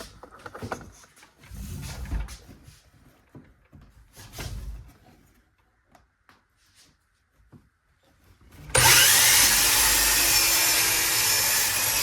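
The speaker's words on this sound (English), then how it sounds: "We'll do a bevel on the miter saw here, just as easy as the table saw" Miter saw cutting a bevel in wood: after quiet handling and clunks, the saw spins up and cuts with a loud, close, continuous whine lasting the final few seconds.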